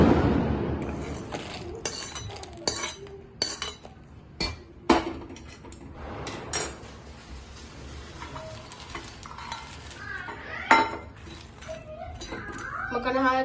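Makhana (fox nuts) dry-roasted in a pan over a low gas flame gives irregular crackling clinks and stirring scrapes. They come in scattered bursts, and a voice talks over the roasting.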